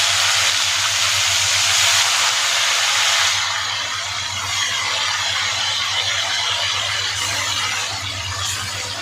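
Chicken pieces are lowered one at a time into hot frying oil for a Sunday biryani lunch. A loud, dense sizzling hiss fills the first few seconds, then eases to a steadier, slightly quieter crackle.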